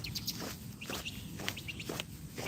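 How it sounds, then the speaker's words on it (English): Small birds chirp outdoors in brief, scattered high tweets, faint and at a distance, over soft footsteps and a low outdoor rumble during a walk, with no voices. "Listen to the birds."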